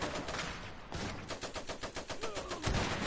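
A heavy machine gun in the 1920s strategy game Iron Harvest fires in rapid rhythmic bursts, with dense rattling shots and booming thuds under the game's battle noise and no speech.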